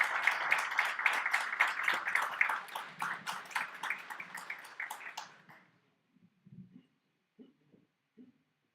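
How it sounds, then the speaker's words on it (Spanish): Audience applause for singer Ricardo Balmori at a tonada folk-song festival: dense, steady clapping that fades out after about five seconds, leaving only a few faint, scattered sounds. "Aplauso también grande, Ricardo Balmori."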